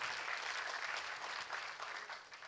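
An audience at an entrepreneurs' launch event claps together on request, a dense, even burst of applause from a sizable room that holds steady and tapers slightly at the end.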